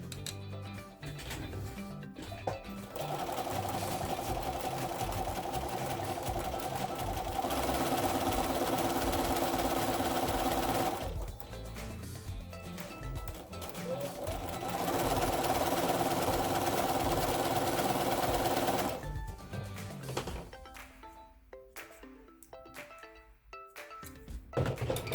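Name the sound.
sewing machine chain piecing quilt block pieces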